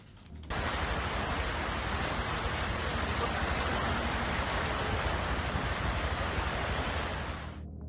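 Heavy monsoon rain pours down in Belagavi, a dense, steady roar that holds at an even level for several seconds before easing slightly at the end, with no voices.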